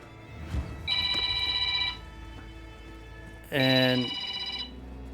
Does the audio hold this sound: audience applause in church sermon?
no